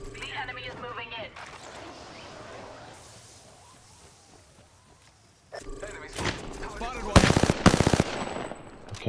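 Gunfire from an Apex Legends arena match, where a quiet stretch gives way to loud, sharp bursts of shots and thuds in the second half, with players talking in the background.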